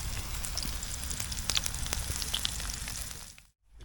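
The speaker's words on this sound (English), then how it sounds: "if you look at my mushrooms, they're cooking" Mushrooms sizzling in a hot pan for a risotto, a steady crackling fry with small pops throughout, close and fairly quiet, stopping abruptly near the end.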